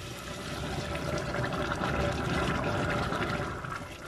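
Boiling water poured into a pot of vegetable stew with potatoes and pepper, giving a steady, continuous splashing rush close by that eases off at the end.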